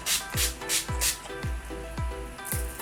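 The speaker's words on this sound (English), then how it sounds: "I'm going to use this Mario Badescu setting spray in rose water" Mario Badescu rose water setting spray is misted from a pump bottle in about six short, evenly spaced hissing sprays, each one close and crisp, with no talking.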